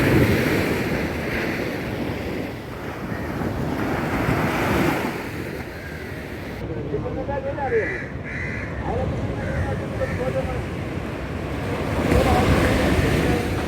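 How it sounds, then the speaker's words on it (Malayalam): Ocean waves break and wash on Kovalam beach in a loud, continuous surf roar with wind buffeting, while crows caw nearby partway through. "പക്ഷേ ചില സമയങ്ങളിൽ നല്ല സ്ട്രോങ് ആയിട്ടുള്ള വേവ്സ് ഒന്നും ഇങ്ങനെ അടിക്കുന്നുണ്ട്"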